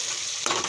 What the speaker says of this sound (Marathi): तेलामध्ये फ्राय केला तर पोपट छानपैकी शिजते सुद्धा.